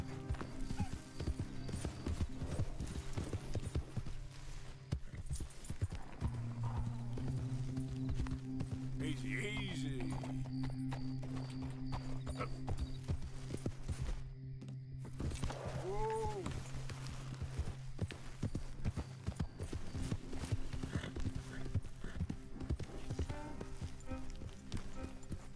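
A horse gallops in Red Dead Redemption 2, its rapid rhythmic hoofbeats running steadily throughout, mixed with game sounds and a faint whinny, while a player talks over it.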